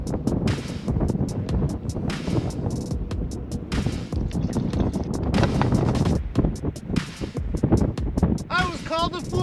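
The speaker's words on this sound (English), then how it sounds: "It is a little windy for it though." Wind gusting across the Sahara desert, harsh buffeting roar and rumble against the microphone in irregular bursts, loud and close throughout.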